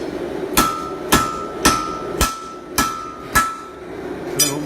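A hammer pounds the end of a hot steel bar flat, about seven sharp ringing blows at a steady, even pace, loud and close, with no voices.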